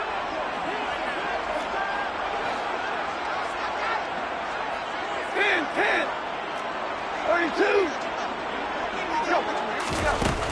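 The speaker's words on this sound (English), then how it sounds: "You can already start to hear this crowd." Football stadium crowd during a third-down play, a continuous broad roar of cheering and noise swelling in places, with a commentator talking over it throughout.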